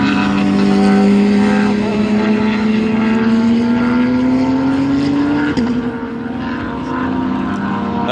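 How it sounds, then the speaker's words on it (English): Loud race car engine from an SCCA race: a Nismo-prepared Nissan roaring past at sustained high revs, its harmonic tone rising steadily then dropping off, close and dominant throughout with a brief break near the end. "That's the really loud Nismo."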